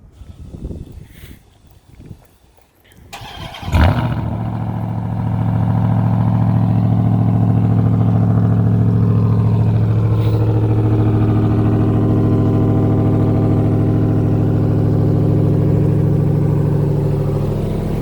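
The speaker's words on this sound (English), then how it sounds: "do a quick cold start for you guys" A Ram TRX pickup truck engine cranks briefly on a cold start and fires up with a loud roar, then settles into a steady, deep rumbling idle that continues alone.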